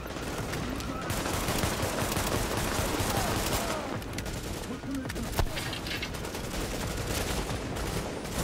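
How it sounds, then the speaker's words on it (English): Dense bursts of gunfire in the video game Tom Clancy's The Division, sustained shooting with sharp reports layered over continuous game noise and effects. "I use my pistol."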